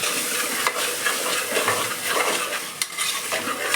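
Chicken fry with gravy is stirred in a pot, producing a dense, continuous sizzle and scraping stir that runs steadily for several seconds, with a few sharper knocks of the utensil against the pot.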